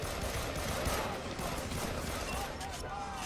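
Rapid gunfire crackles in the co-op shooter Army of Two: The 40th Day, a dense stream of overlapping shots and impacts under excited talking from the players.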